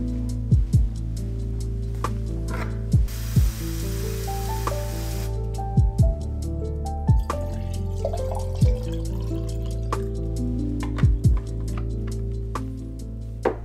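Water running from a tap into a bottle on an evening routine, a steady hiss of flow with occasional clinks and drips, close and alone with no talking.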